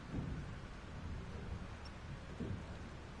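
A thunderstorm in Life is Strange, with heavy rain hissing steadily and low rumbles of thunder rolling in a couple of times, fairly quiet and without voices.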